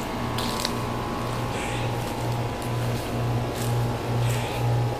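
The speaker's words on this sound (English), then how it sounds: "That's the noisy air conditioner." A noisy air conditioner runs outdoors in a backyard, giving a steady, close mechanical hum with a rhythmic pulsing throb that repeats through the whole stretch, with no voices.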